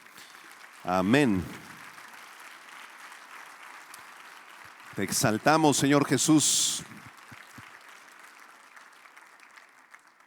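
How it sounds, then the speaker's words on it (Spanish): Church congregation applause forms a steady, faint wash of clapping beneath two short spoken phrases from a voice, one near the start and one in the middle. "Dale un aplauso de gloria a Él."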